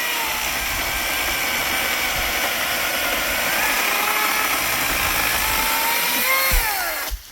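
A saw cuts through dry ash firewood in a forest at night, its motor holding a loud, steady whine close up for several seconds before it abruptly cuts off.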